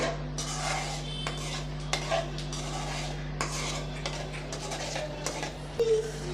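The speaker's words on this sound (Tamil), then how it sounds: "உப்பும் சேர்த்து நம்ம நல்லா மீடியம் ஃப்ளேமில் வச்சு நல்லா கிண்டி விட்டுக்கிட்டே இருக்கலாம்" Ragi upma being stirred in a pan over a medium flame, with repeated close metallic clinks and scrapes of the spoon against the pan over a steady low hum.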